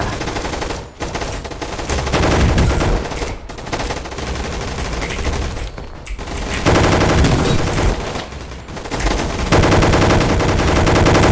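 Rapid automatic gunfire from the Roblox game Gunfight Arena rattles in long, loud sustained bursts broken by a few short gaps, dense and close with no speech over it.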